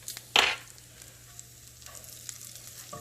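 Butter hits a hot pan with a sharp burst of sizzle, then settles into a quiet, steady frying hiss with a few soft pops, close and without talking.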